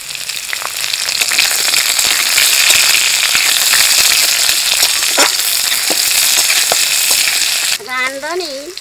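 Green chilies hitting hot oil in a pan, a loud, steady crackling sizzle with sharp pops throughout, followed near the end by a brief tonal rattle as they are stirred.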